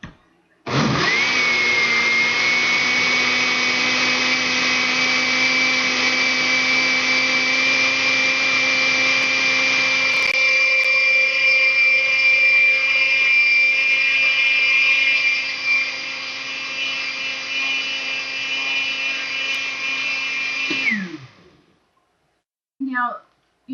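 A countertop blender purees Nova Scotia blueberries in one long, loud, steady motor whine lasting about twenty seconds, its pitch shifting slightly partway through, before it cuts off abruptly.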